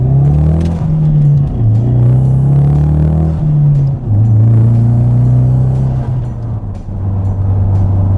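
A Ford EcoBoost Mustang fitted with a Kooks turbo-back exhaust and tune pulls through several gears, its loud, close engine drone climbing in pitch and dropping at each shift.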